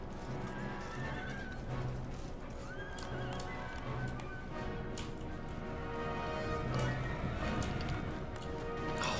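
Cavalry horses in Empire Total War keep up a steady drumming of hooves with whinnies rising over the din of battle, continuous and moderately loud throughout with no voices.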